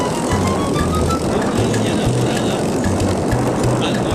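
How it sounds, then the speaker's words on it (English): A simple battery-powered electric bicycle's motor runs while riding downhill, a loud, steady whir under heavy rushing wind, with a low hum that pulses on and off. "I'm going to switch on the motor here going downhill and you'll see the speed you get."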